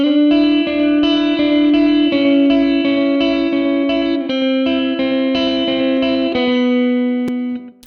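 A sustained guitar chord through a Positive Grid Spark Mini amplifier shimmers with a swirling, wavering modulation effect, ringing steadily and loud before fading out near the end; no talking.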